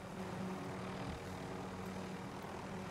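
A helicopter in Call of Duty Warzone drones steadily as it approaches, a faint, continuous engine and rotor hum with no talking over it.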